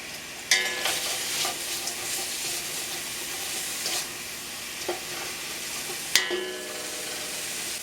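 Onions sweat in a pan with a pinch of salt, giving a steady close sizzle broken by a few knocks and scrapes of stirring.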